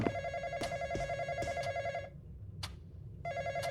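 Phone in the horror video game Anomaly Watch rings in repeated trilling bursts, a long ring, a pause, then another ring starting, steady and close over a low background hum.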